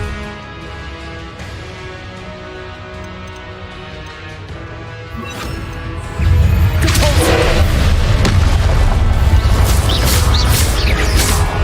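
Confringo spell explosion in a Hogwarts video game, a heavy boom that bursts in after a quieter stretch of game ambience and continues as a loud rumbling, crackling blast.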